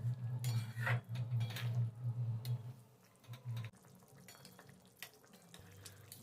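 A spoon stirs ground black pepper and garam masala into a vegetarian cauliflower rezala in a pan, with intermittent close scrapes and light clinks over a low background hum and no voices.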